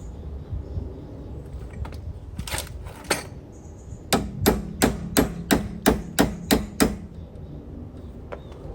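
A hammer taps an Allen key on a 2008 Ford Fiesta front shock absorber drop link: a few scattered knocks, then a rapid run of about nine sharp, evenly spaced metal strikes, close and clear.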